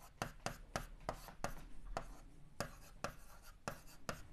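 Marker or chalk strokes on a board during a Class 7 maths lesson on simple equations, about a dozen crisp scratchy taps and strokes in an uneven rhythm, close and alone without talk.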